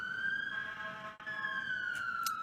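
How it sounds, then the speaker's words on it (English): A steady, wailing siren drones continuously at moderate distance, its pitch gliding slowly, with a brief dip midway and faint higher tones near the end. "there's such a loud siren outside"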